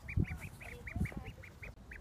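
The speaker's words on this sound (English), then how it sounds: "these little ducks, they're not ready to leave their mom" Baby ducks peep in a quick series of high, thin chirps, about a dozen in two seconds, faint and close with soft rustling underneath.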